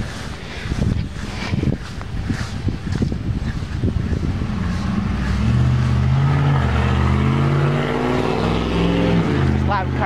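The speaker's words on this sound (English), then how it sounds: "There's loud cars here." Loud cars roar past near a sandy spot where dogs are walked, engines swelling and rising into a strong, close revving pass in the second half after some brief speech and footsteps at the start.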